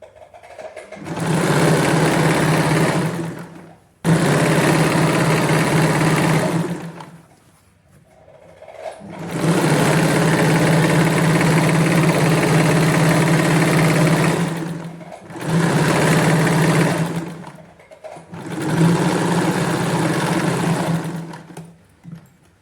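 Sewing machine stitching the hem of a palazzo pant, running in several loud, steady bursts of a few seconds each with short pauses between, close up and without talk.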